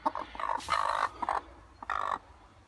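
Broody hen giving several short, fairly loud clucking and growling bursts at close range, separated by brief pauses.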